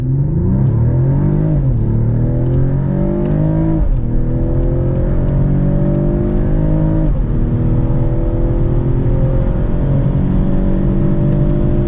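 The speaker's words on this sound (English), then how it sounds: "Let's just start with a kind of race start, okay? Put on the brake. Let's go." A 2022 Mercedes-Benz E450 Cabriolet engine revs hard from a race start and climbs through the gears, loud and close, with pitch rising then dropping at each shift before pulling up again.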